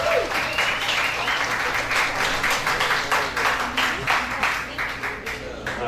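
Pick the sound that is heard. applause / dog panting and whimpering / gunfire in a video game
applause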